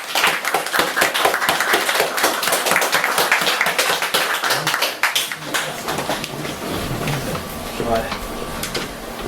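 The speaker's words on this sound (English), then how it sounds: "Let's give him a round of applause." Audience applause at an open-mic poetry evening, dense clapping for about five seconds that thins into scattered claps and background chatter.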